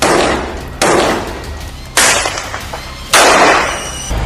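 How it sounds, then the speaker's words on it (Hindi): Loud explosive blasts from an Israeli military strike in northern Gaza: three sharp, booming bursts roughly a second apart, each decaying into a rumbling tail, close and forceful with no voices. "तभी एक जोरदार धमाका होता है और सब कुछ खत्म"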